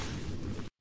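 A short, dense, roaring burst from a game fireball sound effect, left without group processing, cutting off abruptly after under a second.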